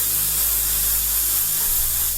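Candy 2.0 paint sprayed from a can onto a white paper towel gives a steady, close, loud aerosol hiss that runs unbroken for about two seconds before cutting off.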